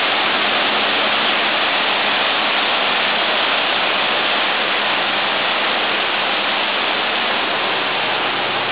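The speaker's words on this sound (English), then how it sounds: "That is really heavy rain." Heavy tropical downpour in the Maldives, a dense, constant roar of rain that stays loud and steady throughout with no voices.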